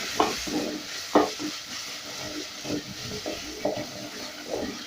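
Garlic and dania stems frying with tomatoes in a cooking pot: a steady close sizzle broken by repeated scraping stirs at an uneven rhythm, with no one talking.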